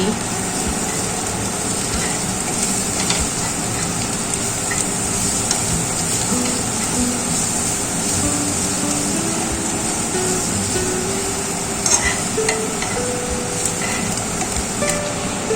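Spiced cabbage mixture with turmeric, salt, chili powder, chaat masala and chopped coriander being stirred in a frying pan: a steady, continuous sizzle with scraping stir noises throughout, fairly loud and close, no talk.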